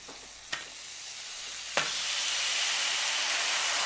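Onions and green peppers sizzle loudly on a hot grill, a steady frying hiss punctuated by two sharp clanks of utensils, the sizzle swelling louder after the second one.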